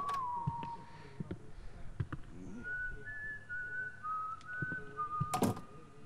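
Whistling Willy, a ghostly janitor in the horror video game White Day, whistles a faint, wavering tune that drifts in the distance over quiet ambience, with a few soft knocks and thuds and a sharp clatter near the end.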